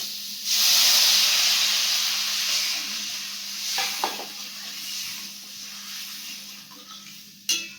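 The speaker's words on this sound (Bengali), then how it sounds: "জলটা দিয়ে দিচ্ছি।" Water goes into a hot pan of rohu fish curry, setting off a loud burst of hissing, sizzling steam that slowly fades, with a few faint clinks from the pan near the end.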